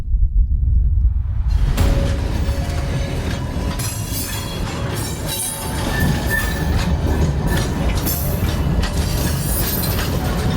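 A heavy iron ore freight train over 10,000 tons and 2.5 kilometers long rolls past close by in the Sahara Desert, a loud continuous rumble with clanking wagons and metallic wheel squeals.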